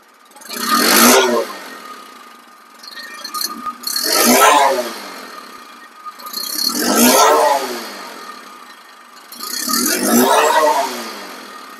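A second-hand Bajaj Discover 125cc motorcycle engine is revved close by, four distinct swells that rise and fall back to a low idle, with a faint rattle on each climb.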